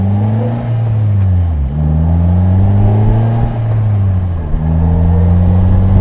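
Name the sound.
Polaris Slingshot SL '18 engine while driving manual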